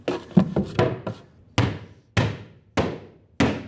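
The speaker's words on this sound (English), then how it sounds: "Now I can feel free to hammer these in." A hammer drives nails into plywood in a basement, sharp close wooden thuds, a quick flurry of lighter taps followed by four heavy, evenly spaced blows.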